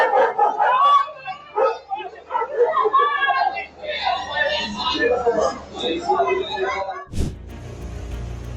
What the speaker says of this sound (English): A smart dog blocking traffic to escort an elderly lady safely across the street.